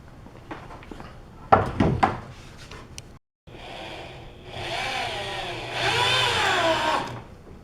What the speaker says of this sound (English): Move over to the other end and screw those in as well